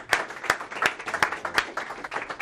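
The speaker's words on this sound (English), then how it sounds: "please give a warm hand as we welcome Alex to the stage" Audience at an AI event in Boca Raton clapping to welcome a presenter to the stage, a small scattered group producing sharp distinct claps in a loose rhythm, moderately close and without voices.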